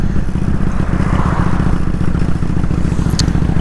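A motorcycle cruises through the streets of Bremen with its choke still on, its engine droning steadily and close throughout, with faint rattles riding over the continuous low hum and no voices.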